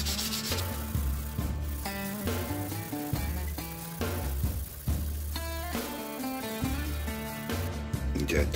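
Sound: sanding a razor clam shell with fine sandpaper

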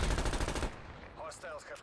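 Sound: gunfire in a video game

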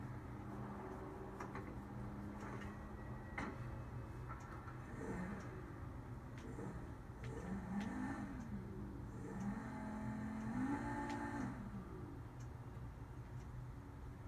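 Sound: Lampadati Felon car engine revving, from a video game

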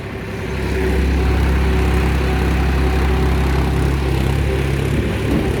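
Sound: blue tractor engine running in a village

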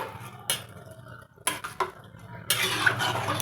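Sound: mixing garam masala into cabbage pulao in pot

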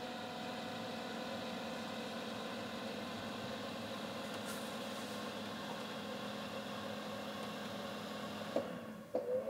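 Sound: fan of DIY knife tempering oven starting up

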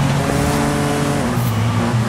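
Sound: hot hatch car racing, video game Forza Horizon 5

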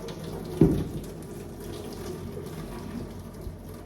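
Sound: draining hot water from a pot using its lid

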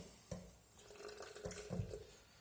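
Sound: water being added to sourdough starter

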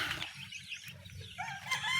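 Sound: chickens in a coop

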